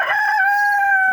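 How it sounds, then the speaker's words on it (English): A farmyard hen squawking loudly and close near a goat stand, one sustained, piercing call holding steady for about a second, with no talk over it. "I get yelled at by the hen."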